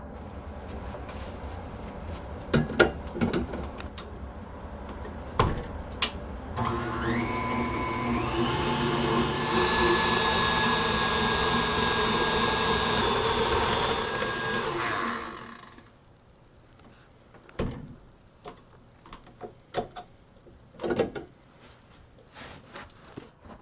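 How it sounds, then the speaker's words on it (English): A stand mixer beats eggs into eclair choux dough, giving a steady whirring motor hum with rhythmic churning that rises in pitch, runs for about eight seconds and then stops, with scattered knocks and clatter around it and no talk. "Now we're going to take it over to the mixer and add in the eggs."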